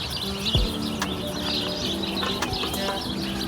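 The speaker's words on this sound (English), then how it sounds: "The birds are singing" Morning birdsong: several birds chirp and tweet over steady background hum, with a soft low thump early on and continuous layered calls, fairly near.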